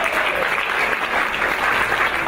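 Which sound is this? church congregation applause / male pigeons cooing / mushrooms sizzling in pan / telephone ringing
church congregation applause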